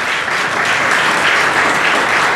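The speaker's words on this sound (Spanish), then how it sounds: "fuerte el aplauso para ella" Loud, dense applause from the audience at the third Arroyitense awards ceremony as the jury is introduced, a steady unbroken wash of clapping lasting the whole moment.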